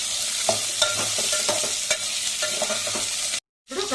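Onions and tomatoes fry in a pan for a drumstick-leaf stir-fry, a steady close sizzle broken by regular scraping stirs, with a short silent break near the end.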